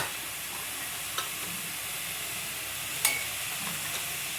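Spices and turmeric frying in a pan for a chicken gravy curry give off a steady, even sizzle with a couple of sharp utensil clicks as they are stirred.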